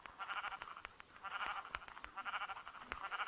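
Minecraft sheep on the Android version bleat in repeated wavering baas, several in a row at a steady, moderate volume, with game sound effects clicking in between and no one talking.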